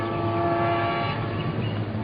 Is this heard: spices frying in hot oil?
no